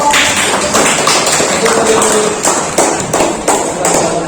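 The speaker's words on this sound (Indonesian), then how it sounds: "kasih aplaus untuk" A class applauds in a school lesson, a steady patter of close, loud clapping with rhythmic taps that continues throughout without a break.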